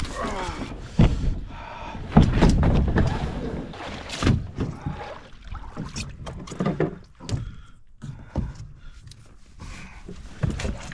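Hollow knocks and scrapes of a canoe hull being handled and slid into a backcountry lake at an awkward portage, with splashes, heavy breathing and brief vocal sounds.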